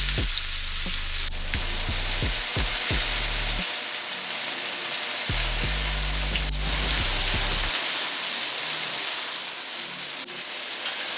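Shrimp fry in a hot pan with a loud, continuous sizzle and crackle like steady rain, close and unbroken, with brief low thuds of handling now and then.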